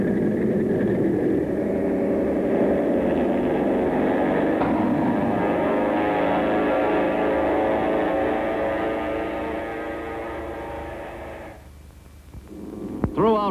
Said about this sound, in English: a catapult was used to push the planes into the air